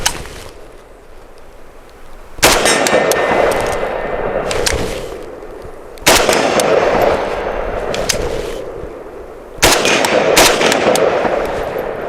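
Three sharp, loud gunshots ring out at an outdoor shooting range, spaced a few seconds apart, each followed by a long decaying echo, with no talking.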